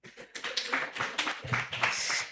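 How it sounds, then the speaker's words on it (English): An audience at a live-streamed inclusive development panel gives the panelists a brief round of applause, a soft, scattered patter of many hands. "I think we can clap for them."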